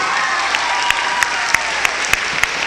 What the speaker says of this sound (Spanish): démosle un aplauso también a ella